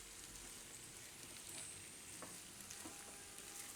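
Sabudana khichdi with raw banana sizzles gently in a pan while being stirred, a soft continuous frying hiss with occasional scraping, no voices.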